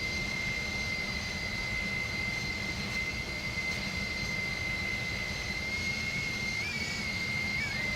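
Jet engines of an Airbus A300-600ST Beluga in the X-Plane 11 flight simulator, a steady, loud cruising roar with a sustained high whine that wavers slightly near the end.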